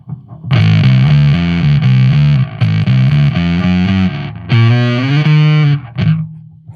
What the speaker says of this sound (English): This is just the regular Avalanche circuit